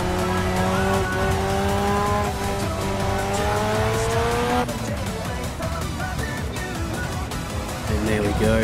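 An Assetto Corsa car on a touge mountain-road run, oversteering with its tires squealing while a loud engine holds a steady, rising whine that drops and roughens midway, continuous and close.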